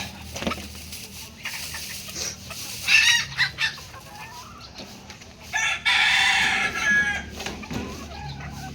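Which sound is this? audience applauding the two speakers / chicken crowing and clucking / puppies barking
chicken crowing and clucking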